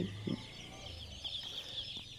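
Soft, low clucking of chickens at a poultry rearing spot, a few faint murmuring clucks close by over a quiet background hum.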